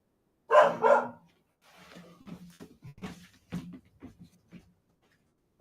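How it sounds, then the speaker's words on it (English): A dog barks loudly twice up close, followed by quieter, scattered barks or yips continuing in a looser rhythm. "Let's see what the dog's all about."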